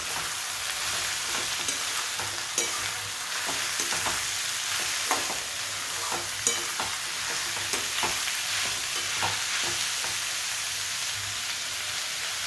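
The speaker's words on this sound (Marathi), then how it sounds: "याला व्यवस्थित फ्राय करून घ्यायचं" Vegetables and spices fry in a pan for veg pulao, giving a loud, even sizzle. Scattered spoon scrapes and taps against the pan break through it throughout.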